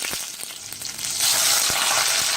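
Large green chillies fry in a pan with a strong, continuous hissing sizzle that swells louder partway through, broken by a few light knocks of a utensil, close and without speech.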